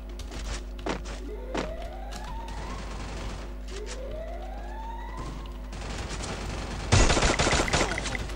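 Gunfire in Free Fire rings out in sharp single shots and short bursts, with rising siren-like whistles between them and a louder burst of shooting near the end, all over a steady game hum.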